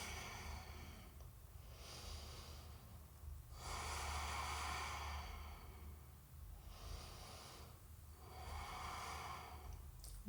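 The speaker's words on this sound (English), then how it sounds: "And you just breathe." Slow, deep breathing during a quiet yoga session, with long soft inhales and exhales alternating in an even rhythm, close and faint.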